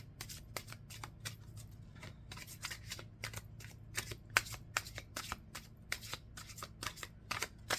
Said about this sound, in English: I'm trying to shuffle in a different way, and it's like just not working.